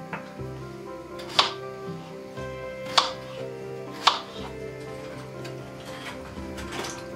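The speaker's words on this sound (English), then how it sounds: "gently push down so you're holding the potato and the knife goes through" A knife pushes through a potato onto a board, giving three crisp, evenly spaced chopping thuds over a quiet kitchen background, with a fainter fourth cut near the end.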